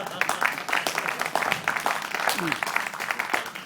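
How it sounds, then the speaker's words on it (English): An audience at a Green Party gubernatorial candidate's speech claps steadily, a dense patter of many hands sustained throughout without pause. "yes, let's clap for that"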